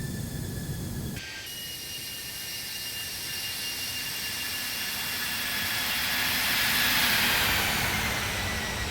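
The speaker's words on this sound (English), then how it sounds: "You can hear the auto thrust working." Simulated engine roar from an A321 airliner under auto thrust in a flight simulator game, a steady broadband jet rumble with a high whine that swells gradually louder toward the end after a brief cut near the start.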